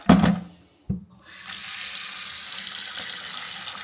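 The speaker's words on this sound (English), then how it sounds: "which reminds me I need to fill this up with water" A kitchen tap runs into a bowl being filled for an ice bath. After a couple of brief knocks and a short pause, a steady loud gush of water flows continuously to the end.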